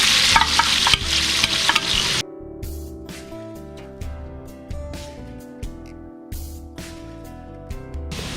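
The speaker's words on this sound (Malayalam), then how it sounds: "ഇതിലേക്ക് നമ്മളൊരു 4 സവാള അരിഞ്ഞു വെച്ചത് ഇടുകയാണ്." Four chopped onions dropped into hot oil for Kerala-style meat rice, hissing and sizzling loudly at first, then settling into a steady fry with repeated stirring scrapes.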